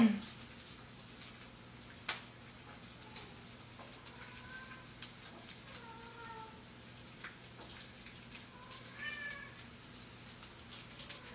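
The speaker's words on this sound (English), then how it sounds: "That's my cat." A cat meows several times, soft and somewhat distant, over a quiet background hum with a few light taps.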